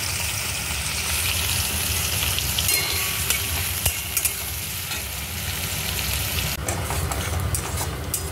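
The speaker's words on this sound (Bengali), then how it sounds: "পেঁয়াজগুলো ভেজে নেব।" Finely chopped onions frying in a pan, a steady loud sizzle that runs throughout with faint scraping and clinks of stirring.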